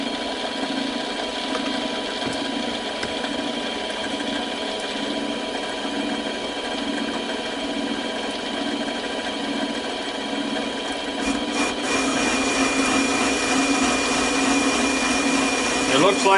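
A metal lathe cuts a die holder mounted on the tailstock, giving a steady whirring motor hum with a rhythmic pulsing tone and faint scraping, louder and busier toward the end.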